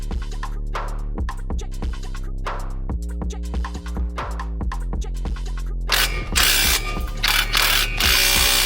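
A ratchet tightens the brake caliper bracket bolts on a BMW M135i, giving close, loud rapid clicking in repeated bursts, followed by a harsher, noisier stretch toward the end.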